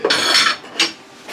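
Ceramic dishes clattering and scraping as a sushi restaurant is cleared out for demolition, two short close bursts of knocking and rubbing, fairly loud, with no speech.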